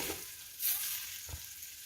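Brown mushrooms are tipped into a hot pan for boeuf bourguignon and a soft, faint sizzle follows, with one brief louder hiss and a dull knock near the end.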